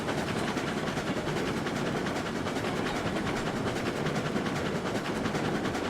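A train hauling tanker cars in the video game RailRoads Online, with a continuous rumbling roll and a faint rhythmic clatter of wheels, steady and moderately loud throughout.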